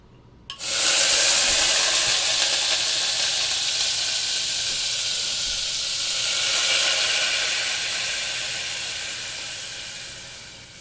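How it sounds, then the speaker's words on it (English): Steam bursts out with a sudden loud hiss and sizzle while fancy ramen cooks, then a steady bubbling hiss continues for several seconds, slowly easing, close by with no talk. "this is gonna steam and bubble"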